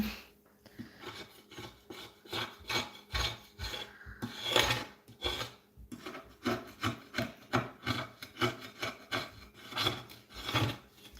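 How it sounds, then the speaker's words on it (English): Repeated close, quiet scraping strokes on a paint palette, a dry rasping rub in an uneven rhythm with short pauses, no voices. "you guys can watch me scrape, I guess, my palette"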